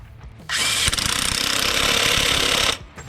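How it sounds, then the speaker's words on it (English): An impact wrench tightens bolts on a heavy-duty Jeep Wrangler driveshaft, a loud, close, rapid hammering rattle held for about two seconds before cutting off. "we're going to go ahead and start this and finish it off with our impact"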